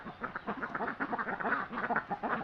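Ducks in a netted pond enclosure quack repeatedly at close range, a dense, overlapping chorus of nasal calls running without pause and no talk.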